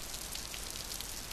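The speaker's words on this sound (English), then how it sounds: "Well, it's rainy today," Steady rain falls in a continuous, even hiss with no break or change in strength, and no voices are heard.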